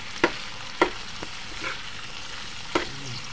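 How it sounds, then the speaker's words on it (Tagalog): Onion and garlic sauté in a pan with a soft steady sizzle, broken by a few distinct utensil taps against the pan, and no voices. "At idunod na natin ang sibuyas at bawang."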